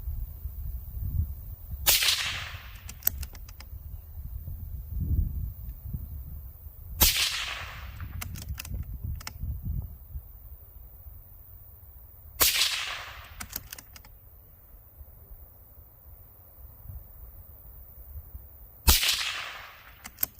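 Four sharp rimfire rifle shots with non-toxic ammunition, fired at a steel target, crack out alone at wide, uneven intervals against a quiet outdoor background, each followed by a brief ringing tail.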